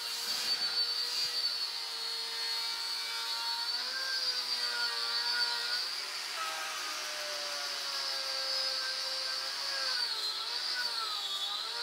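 Angle grinder fitted with a ceramic grain abrasive disc grinding down a weld bead for mirror-finish preparation, giving a steady, loud high-pitched whine with shifting tonal harmonics throughout, continuous and close.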